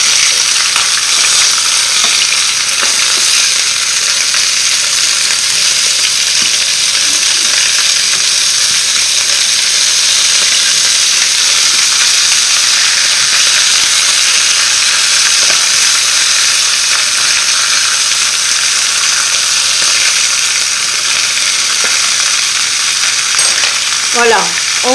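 Chicken pieces fry loudly in a pan for a coconut curry, a dense continuous sizzle close up, with faint scrapes as the pieces are turned near the end and no talking.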